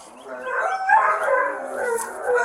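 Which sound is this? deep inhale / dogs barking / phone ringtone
dogs barking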